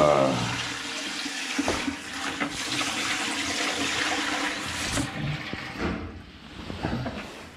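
Water draining from a central heating system into a bucket, a loud continuous gushing pour with splashing, easing slightly near the end.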